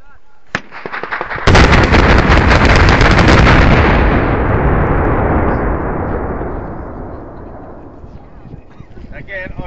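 An explosive blast pattern of a single row fires booster to booster from right to left: a sharp crack, then a huge, loud roaring detonation that rumbles and slowly fades over several seconds.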